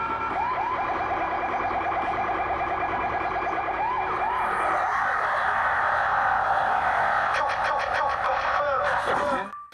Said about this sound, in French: Le lendemain, nous avons rencontré une équipe de sirènes à vélo.